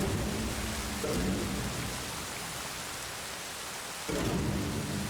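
Thunderstorm with heavy rain in an anime episode: steady loud rain hiss throughout, with deep thunder rumbles swelling near the start and again toward the end.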